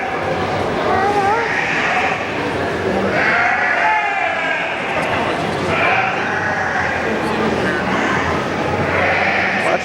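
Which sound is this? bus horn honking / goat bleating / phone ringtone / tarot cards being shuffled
goat bleating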